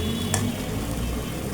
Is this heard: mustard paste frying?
yes